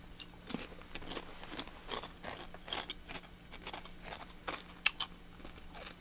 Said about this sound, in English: Chips crunchy as hell.